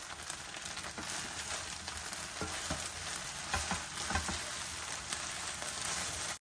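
Vegetable manchurian sizzles and fries steadily in a pan as chopped coriander is stirred in, a close, even crackle of hot oil with light stirring scrapes throughout.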